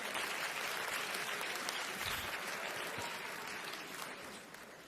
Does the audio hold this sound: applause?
yes